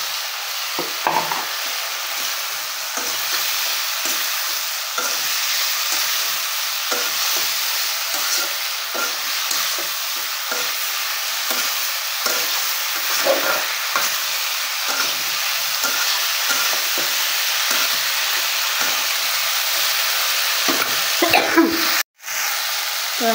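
Chopped potatoes and okra fry in a spiced masala, giving a steady close sizzle with repeated scraping stir strokes throughout and a brief clatter near the end.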